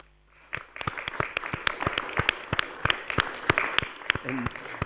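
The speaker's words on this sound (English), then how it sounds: "perhaps you heard that thunderous applause" Seminar audience applauding after a talk on fire protection, a burst of many hands clapping that swells quickly and stays dense and moderately loud for several seconds, with no voices over it.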